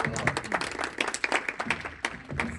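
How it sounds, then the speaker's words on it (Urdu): An audience at an Urdu poetry gathering in North America bursts into applause to welcome a young poet, a dense, steady patter of many hands clapping close by for a few seconds. "تو تالیوں سے ان کا استقبال کیجیے"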